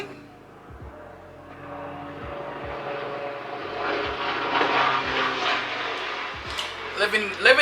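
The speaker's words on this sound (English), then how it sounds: "Come on, plane." A propeller airplane passes overhead in New York, its droning engine rising steadily louder under a person talking close by.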